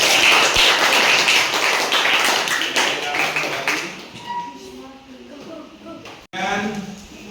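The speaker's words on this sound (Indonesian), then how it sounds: "kita berikan aplaus untuk kelompok 4" A Year 7 class applauds group 4 during a Qur'an Hadith lesson, with dense overlapping claps for about four seconds that fade out as a voice starts speaking.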